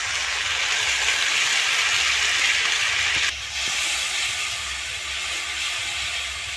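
Steady loud sizzle of pointed gourd frying in a pan as sour yogurt is added, a dense hiss that dips briefly and then resumes as the yogurt hits the hot oil, close and continuous with no talk.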